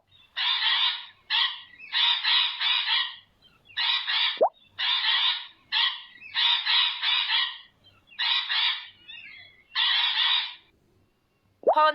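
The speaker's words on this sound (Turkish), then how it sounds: "Papağan." A parrot gives a run of repeated harsh, loud squawking calls in short bursts, with brief gaps between them, heard alone with no talking.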